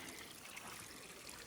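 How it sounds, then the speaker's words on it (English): A tiny mountain creek trickles down a hillside on a trail in Worlds End State Park, a faint, steady wash of running water with no voices. "here's this tiny little creek coming down the mountain here"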